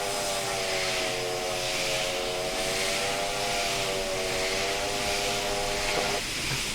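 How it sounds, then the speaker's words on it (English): A steam locomotive whistle on the Diamond River Logging Railroad in Train Sim blows one long, loud, steady chord for about six seconds over a constant hiss of steam. "that was the most epic whistle I've heard in Train Sim."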